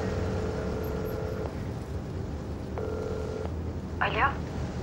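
Two long ringback tones sound over a steady background hum, each burst lasting about a second and a half with a pause between, while someone waits for a call to be picked up; a brief voice comes in at the end.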